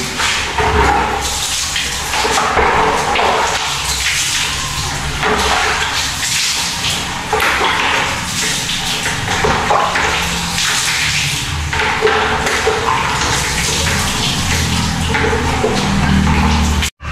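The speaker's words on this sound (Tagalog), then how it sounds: "Buhusan na natin para mas maano yung alikabok doon." Steady rushing splash of water poured out continuously onto a floor, loud and close, with no talking over it.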